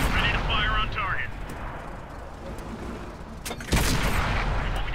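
A Panzer IV tank cannon fires in a video game, one loud booming shot landing near the end after a stretch of rumbling battle noise, with a voice talking over the earlier part.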